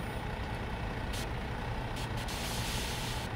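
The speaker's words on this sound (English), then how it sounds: "Oh, handbrake, of course." A truck's air brake in a truck simulator game, steady engine rumble with short hissing bursts of released air over it.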